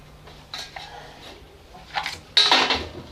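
A metal IKEA hobo stove is handled, giving a few scattered clinks and clanks, with one louder metallic clatter near the end, close up and with no talk.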